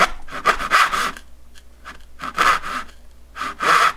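A hand saw cuts dovetails in wood with firm, rasping strokes, about five or six loud back-and-forth pushes close by, with short pauses between them.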